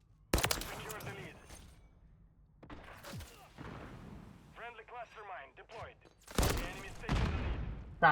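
Video game sniping with a BP 50 rifle: several sharp, loud gunshots ring out with echoing booms, spaced irregularly, while someone talks between the shots.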